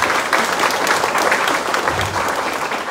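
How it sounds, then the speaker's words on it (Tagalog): Loud, dense applause from an audience welcoming first-timers at a crowded business seminar, steady and sustained throughout with no break. "Pwede ba pinakamalakas sa palakpak sa mga first-timers?"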